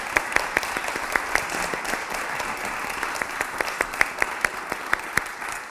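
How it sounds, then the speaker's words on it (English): An audience applauds panelists at a tech conversation event, steady dense clapping with sharper individual claps popping out, moderately loud throughout. "give a round of applause to our panelists"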